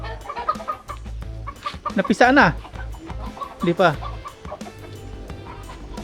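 Several Rhode Island Red chickens cluck and squawk nearby in short bursts, with a couple of louder calls, while people talk quietly in the background.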